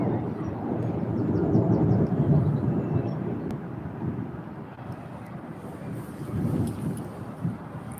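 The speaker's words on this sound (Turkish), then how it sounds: "Şimşekle çarpmaya başladı arkadaşlar." Thunder from a lightning storm rolls low and continuous, a broad rumbling roar that swells and fades across the stretch and carries some wind noise.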